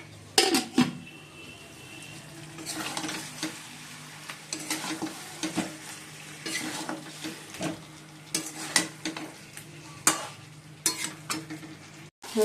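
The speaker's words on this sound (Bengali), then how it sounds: "চিকেনগুলো ভাজছি চিলি চিকেন করবো তার চিকেনগুলো ভেজে নিচ্ছি" Chicken pieces fry in a pan for chilli chicken: a soft sizzle runs underneath while a utensil scrapes and clinks against the pan in irregular bursts, with no talking.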